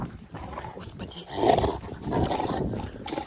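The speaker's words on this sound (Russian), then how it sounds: "Господи, Фредди, что ты так рычишь?" A Rottweiler growls up close in low, rumbling bursts that swell and fade over a few seconds, with no one speaking.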